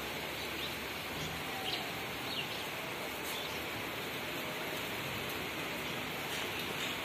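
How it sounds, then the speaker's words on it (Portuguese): Rain falls steadily in Tanque Novo, in the sertão of Bahia, while the sun shines. It makes a soft, even, continuous patter with no voices, and a faint bird call may come through. "vocês estão querendo ver chuva? É chuva e sol, ó."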